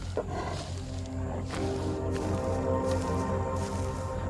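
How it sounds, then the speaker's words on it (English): A big cat predator on the savannah lets out a deep, sustained roar, loud and close with a low rumbling tone that carries through the whole stretch without any talk. "His far-carrying roar warns any audacious intruder."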